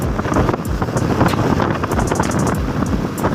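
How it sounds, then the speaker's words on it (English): Wind rushes steadily past a moving motorcycle, a loud, continuous buffeting roar against the microphone with engine and road noise underneath. "Yeah, it's windy"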